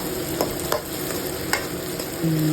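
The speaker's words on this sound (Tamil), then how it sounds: "இது நல்லா வதக்கி விடுறேன்" Onions sautéing in a pan as the base for a seabass fish curry, a close, steady sizzle with a few spatula scrapes and clinks, no voices.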